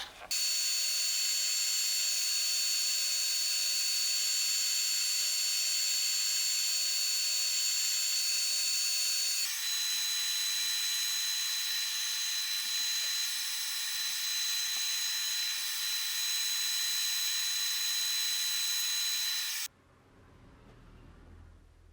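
A high-pitched power tool whines steadily and loudly for about twenty seconds, shifting tone partway through, while dressing a micro convex edge on a handmade hunting knife blade, then cuts off abruptly, leaving faint room noise.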